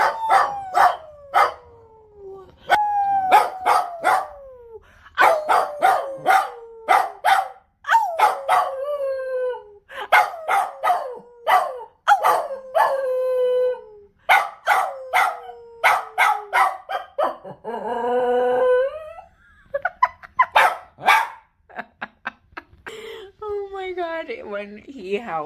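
A dog howls along with a person, their long rising and falling howls repeating in drawn-out phrases, the human voice imitating the howl and trading with the dog, later breaking into higher yips and whimpers.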